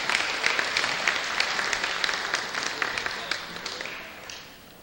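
A crowd at a 1998 town meeting claps steadily for the ballot clerks, fairly loud at first and fading out over several seconds.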